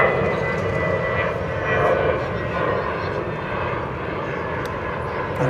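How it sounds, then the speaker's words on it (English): Qantas Flight 22, an airliner bound for Melbourne, taxiing out of the gate at DFW airport in the evening, a steady, continuous engine rumble and whine at moderate distance, holding roughly level throughout. "the Qantas Flight 22 to Melbourne has pulled out of the gate"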